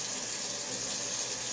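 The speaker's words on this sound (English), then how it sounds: "it will be very frequently you'll hear me just sporadically turn on the water real quick" A bathroom faucet runs into a sink with its drain stopper missing, a steady close rush of water filling the whole moment without pause.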